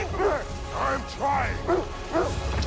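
Dogs barking and whimpering in the God of War Ragnarok video game, a run of repeated yelping barks in a regular rhythm over a low game rumble.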